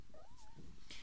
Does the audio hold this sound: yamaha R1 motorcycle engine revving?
no